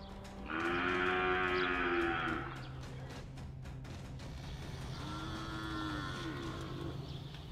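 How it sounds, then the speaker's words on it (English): African buffalo lowing with deep, drawn-out moo-like calls, a long loud bellow followed after a pause by a softer second call, over a steady low background hum. "the last one, number five, is the African buffalo"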